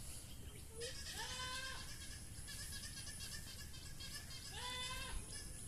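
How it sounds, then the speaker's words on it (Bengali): Two bleats from a goat, rising and wavering, a few seconds apart against a steady outdoor hiss. "অন্যদিকে ছাগল ডাকতেছে"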